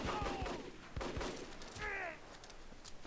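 Bursts of machine gun fire from the video game Crimecraft crackle faintly in quick, scattered volleys, with soft speech underneath.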